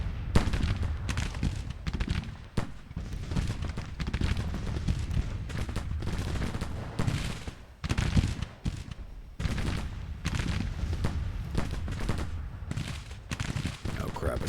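Repeated musket volleys in a Civil War battle game, ragged bursts of massed rifle fire crackling and booming in waves over fourteen seconds with a few sharper single shots, loud and fairly close, some quiet voices underneath.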